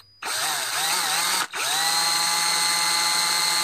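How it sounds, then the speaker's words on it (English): A power drill whirs loudly and steadily as it chases a hole in a CVK 32 carburetor bowl on a Ural, stopping for a split second before spinning up again and running on. "chase it with the drill."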